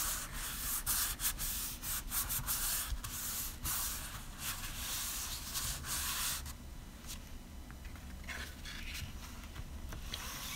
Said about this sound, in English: And I'm just going to burnish with my fingers.